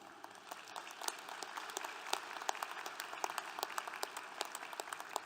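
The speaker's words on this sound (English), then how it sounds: "give Caden one more round of applause" A commencement ceremony crowd breaks into a round of applause, a dense, even patter of many hands clapping from some distance that holds steady throughout, with no talking over it.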